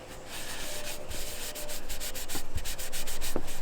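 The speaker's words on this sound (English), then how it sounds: "I'm going to go ahead and wipe off the excess oil." A cloth rubs and wipes excess oil off a wooden cigar box guitar neck, making a steady, soft scraping sound with rhythmic strokes that grow slightly louder over time, close up and without speech.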